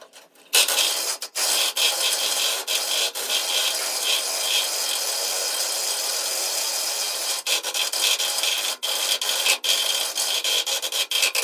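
A wire brush scrubs rust off metal in steady, harsh, continuous rasping strokes with brief pauses, close and fairly loud throughout with no talk.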